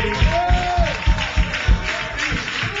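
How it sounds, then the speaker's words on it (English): An audience gives a round of applause at a beatboxing event, a steady wash of clapping with a few heavier, rhythmic claps pulsing through it at a moderate distance. "Round of applause, Barry B."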